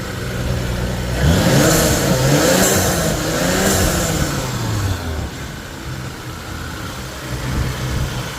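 An Isuzu Cameo pickup with a 1JG turbo diesel engine revs up from idle, climbing and sweeping in pitch over a couple of seconds before dropping back to a steady, close-up idle rumble.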